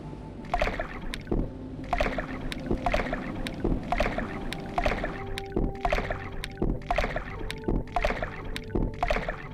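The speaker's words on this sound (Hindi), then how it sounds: "एक एक करके अपनी अपनी नाव में बैठती हैं और राजकुमार नाव चलाना शुरू करते हैं।" Oars splash and knock in a steady, regular stroke rhythm as a boat is rowed across water, close and fairly loud, about two strokes every second and a half, with no talking.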